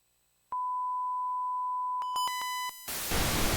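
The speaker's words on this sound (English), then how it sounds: "Bit of white noise." A steady 1 kHz-style sine test beep holds for over two seconds, then a string of short beeps stutters, and a harsh burst of broadband white noise test signal kicks in at the end, loud and alone with no talking.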